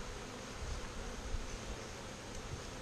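A honeybee swarm on nine hive frames hums with a steady, low-level buzz, faint and continuous with no voices over it.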